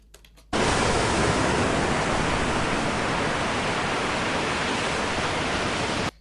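Steady, dense wash of surf-like noise for a beach ambience, starting abruptly after a faint moment and holding at an even, loud level until it cuts off; no voices.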